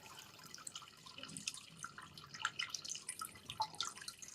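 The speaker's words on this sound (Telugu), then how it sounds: "బట్ ఆ వాటర్ సౌండ్ కూడా మనం అబ్జర్వ్ చేసి నేను మీకు వినిపిస్తాను చూడండి." Spring water trickles and drips inside the Kishan Bagh temple at Kashibugga, making a soft, continuous flow with scattered small drips that stay faint throughout.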